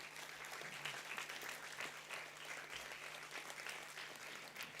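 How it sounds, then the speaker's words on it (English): A convocation ceremony crowd applauds a graduate, a continuous wash of many hands clapping, steady and somewhat distant with no voices over it. "Keep the applause going"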